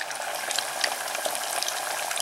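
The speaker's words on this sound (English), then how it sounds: "They're in there deep frying." Hot oil sizzles and crackles steadily as fish deep-fries, a bright continuous frying hiss with small popping bursts, close by.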